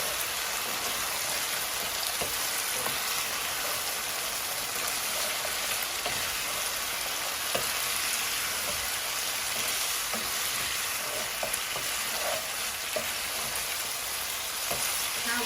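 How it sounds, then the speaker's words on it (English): Lamb and peas sizzling steadily in a pan for lamb pelau, a continuous dense frying hiss close up, with soft scrapes and taps of a spoon stirring throughout. "So now you just want to stir it up, because you want some of that lamb flavor to go into the peas."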